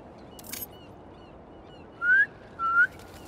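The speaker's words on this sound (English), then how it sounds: "Try a whistle." In Marvel's Spider-Man 2, two short, clear whistles ring out one after another to call pigeons, each rising slightly in pitch. A faint brief rustle comes earlier.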